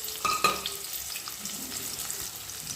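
Onions, cumin and mustard seeds fry in hot oil as a tempering, a soft continuous sizzle with a couple of sharp stirring clinks near the start.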